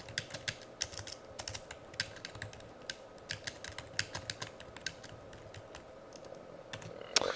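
Steady typing on a computer keyboard while writing an essay, irregular close key clicks running throughout with a slightly louder clack near the end.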